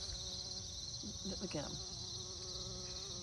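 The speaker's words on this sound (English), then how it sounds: "You hear that little bee buzzing?" A bee buzzing on a pumpkin flower, a continuous close insect drone held steady throughout, with a person speaking briefly over it midway.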